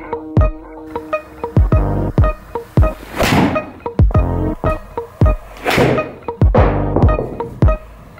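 Repeated golf shots with a Titleist AVX ball, several sharp solid impacts spaced a second or so apart, close and loud, some followed by a short rush of noise.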